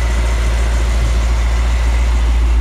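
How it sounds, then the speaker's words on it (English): A 1956 Ford F100 truck with a 390 engine idles close up, a loud, deep, even rumble that holds steady throughout. "Engine purrs like a kitten."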